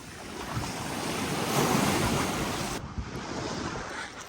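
Ocean surf rolls steadily onto Paradise Beach in St Vincent, a continuous broad wash of breaking waves mixed with heavy wind buffeting the microphone, loud and unbroken throughout.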